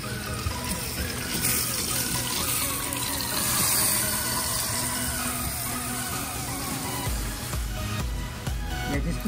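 Water sprays steadily as a 2004 Honda Aquatrax F12X Turbo jet ski hull is rinsed, a close, continuous hissing wash that shifts in tone near the end.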